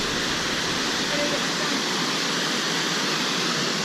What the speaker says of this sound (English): I like climbing up the waterfall.